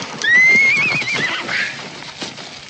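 A horse gives a loud, close whinny that rises and trembles for about a second, with hoof clip-clops and scuffling around it in an outdoor western scene.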